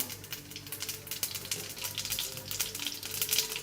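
Cumin seeds and urad dal spluttering in hot oil, giving a close, steady crackle of rapid pops and sizzling that keeps going with no pause.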